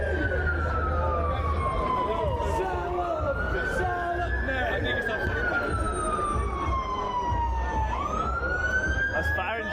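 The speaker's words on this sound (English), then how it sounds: "That's fire engine. Fire brigade." A fire engine siren wails nearby in a street, its pitch sweeping slowly up and down in long cycles over road traffic rumble, with people talking underneath.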